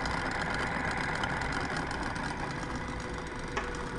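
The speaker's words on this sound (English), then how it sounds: "and my little motor spinning" A chocolate fountain's small motor spinning while its base heats, giving a steady close-up hum with a faint high whine, even and unbroken throughout with no talking.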